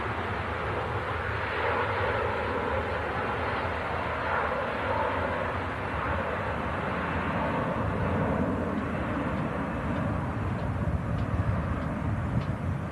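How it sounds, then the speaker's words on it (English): A Virgin Airbus A330 departing from an airport, its engine roar a broad steady rumble that holds loud and continuous throughout, with no talk over it. "And there goes the Virgin A330."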